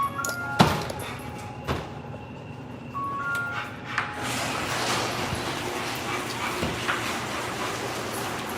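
A dog named King barks and whimpers indoors in the evening, wanting to go outside: a sharp yip near the start, then scattered whines and short barks over a steady background hiss.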